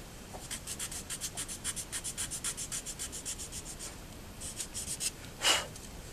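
Hand-sanding white wood along the grain of a Graupner Adler von Lübeck model boat hull, a steady run of regular rasping strokes close by, with a louder single scrape near the end.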